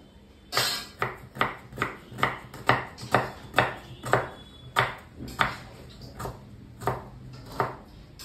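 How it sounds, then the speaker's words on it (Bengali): A knife chops through an onion on a board in a home kitchen, giving about a dozen crisp, evenly spaced knocks with a slight ringing edge, close and clear with no talking. "এই পেঁয়াজটা এবার কাটবো"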